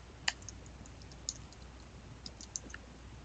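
Mouse clicks on a computer, a few sharp isolated ticks spaced about a second apart over a faint background hiss, close and quiet with no speech.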